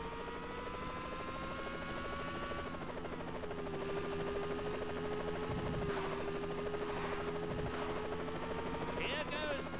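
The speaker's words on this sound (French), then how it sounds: "On va me faire suivre par un hélicoptère là" A helicopter's rotor in the PS1 game Formula One 2000 drones steadily in the background with a constant tonal whine, while a voice talks quietly over it in French.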